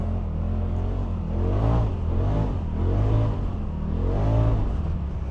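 A 2025 Polaris RZR Pro XP 4 Ultimate turbo UTV on the sand dunes at Oceano Dunes revs hard with a droning engine that rises and falls in waves of acceleration, loud and close, with no talking.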